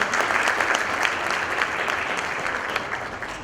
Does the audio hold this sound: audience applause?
yes